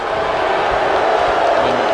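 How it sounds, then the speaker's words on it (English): A dense arena crowd at Madison Square Garden in the WWE 2K wrestling game produces a constant loud roar of mixed cheering and murmuring without pause. "Sasha Banks celebrating to this Madison Square Garden crowd who are not too fond of her"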